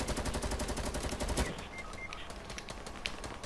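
Rapid automatic gunfire from a Fortnite match, dense and loud for about a second and a half, then dropping to scattered, quieter shots and game noise.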